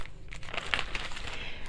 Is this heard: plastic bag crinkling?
yes